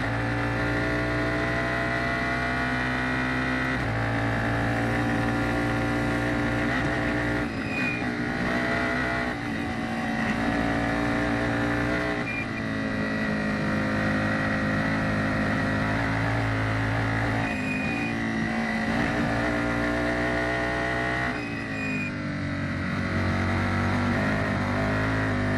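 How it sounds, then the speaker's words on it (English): Formula 4 race car engine at Circuit of the Americas, throttle modulated through the S-curves: a loud, continuous engine note rising and falling with repeated lifts and re-applications of throttle, close and sustained throughout. "Great to hear how the drivers have to modulate the throttle on their way through the S's."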